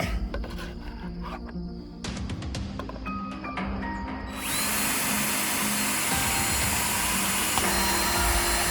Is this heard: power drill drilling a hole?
yes